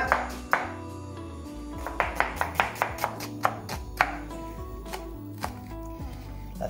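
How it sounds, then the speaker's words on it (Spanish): An onion is chopped with a knife for a Navarre-style potato tortilla, a series of crisp, close knife taps on a board in an uneven, quickening rhythm. "Vamos a picar la cebolla."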